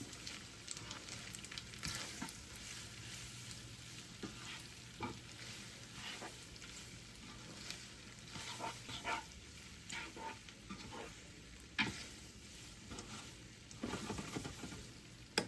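Pasta with sardines sizzles in a pan as garlic powder is mixed in, a faint but steady frying hiss broken by irregular spatula scrapes and clinks against the pan.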